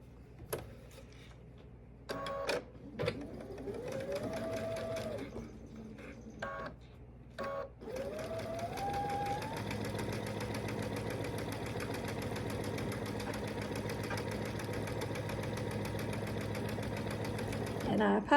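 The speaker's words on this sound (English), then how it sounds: "I'm going to sew these together." A sewing machine joins quilt block pieces with a steady, continuous hum running for several seconds after a few short bursts, while someone talks over it.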